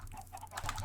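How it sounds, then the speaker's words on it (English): Chickens cluck softly in Minecraft, a few brief, quiet clucks over low background noise. "Chickens! Come get some."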